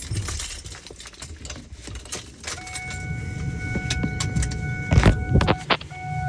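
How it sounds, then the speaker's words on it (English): Keys jingle and clink in short bright bursts while someone climbs into a high-mileage Ford F-250 pickup hauling a large scrap load, with door and cab handling noises and a low vehicle rumble underneath. "I'm just getting my keys out."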